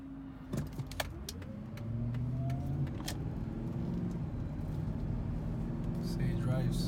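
A Ford Expedition SUV driving after a VCT solenoid replacement, its engine humming steadily and rising gently as it moves off, with a few clicks and knocks near the start and a person talking briefly.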